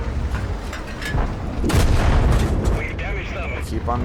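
A gun fires repeatedly in a video game, with loud booming shots over continuous game noise and a voice talking throughout.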